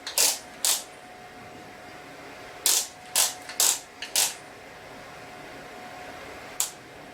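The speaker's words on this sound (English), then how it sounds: "Torque to 105 foot-pounds." A torque wrench tightens the rear axle nut on a 2003 Harley-Davidson VRSCA V-Rod motorcycle. Sharp metallic ratchet clicks come in short, spaced bursts, two early, a cluster of four in the middle and one near the end, close and crisp over quiet background.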